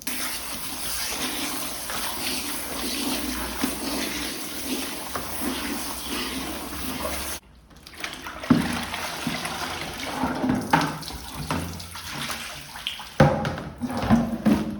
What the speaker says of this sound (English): If the water still looks discolored, then rinse it again